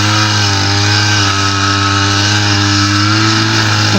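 A petrol-powered grass cutter drones continuously and close, its engine note steady and loud throughout with no voices over it.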